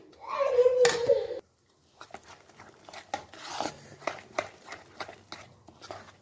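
Semolina and vegetable batter is stirred with Eno fruit salt, giving a brief loud rasp followed by soft scraping and patting strokes under a child's chatter.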